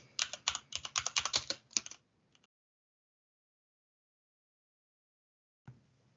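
Quick bursts of keystrokes on a computer keyboard tap out a short name, about two seconds of close, crisp clicking, then silence and one last faint key press.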